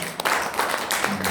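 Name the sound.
audience applause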